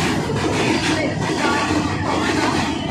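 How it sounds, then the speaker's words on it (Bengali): A long container freight train of about 52 wagons rolls past a railway station platform, giving a steady, close rumble and rattle of wheels and cars that continues without a break. "একদিক দিয়ে মালগাড়ি যাচ্ছে, একদিক দিয়ে লোকাল ট্রেন পাস হচ্ছে"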